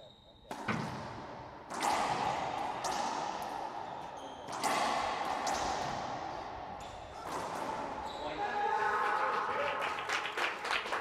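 A badminton crowd cheers and claps after a rally, swelling in repeated bursts between sharp impacts, with a commentator speaking over the noise.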